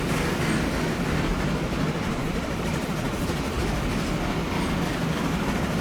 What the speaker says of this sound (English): Maybe that's this train making this noise.